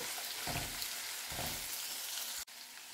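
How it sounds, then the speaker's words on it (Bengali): Chili frying in oil with yardlong beans and spices gives a steady, close sizzle, with a couple of soft stirring swells and a brief dropout near the end. "আমি 1 মিনিট মতো আবারও ভেজে নিলাম মরিচটাকে সমস্ত ইয়ের সাথে, কি বলে, বরবটি এবং অন্যান্য"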